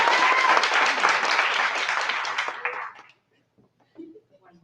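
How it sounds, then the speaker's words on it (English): Wedding guests cheer and applaud in a dense burst of clapping and whoops that fades out after about three seconds, followed by quiet and a few faint voices. "That takes a cheer."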